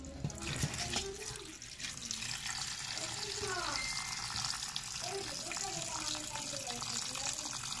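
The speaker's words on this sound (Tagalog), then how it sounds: "Hugasan muna natin." Small crabs (talangka) being washed under running water, a steady splashing and trickling stream in a sink with a voice speaking over it.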